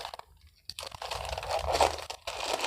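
Scissors snipping through a thin plastic sachet water bag, producing close, crinkly crunching and cutting sounds with short pauses between snips.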